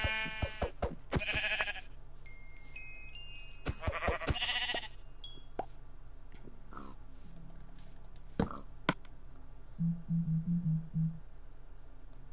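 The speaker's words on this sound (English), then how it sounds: "I see sheep." Sheep in Minecraft on PlayStation 4 bleat several times close by, short nasal bleats scattered among game clicks and footsteps, followed by a quick run of low grunting calls.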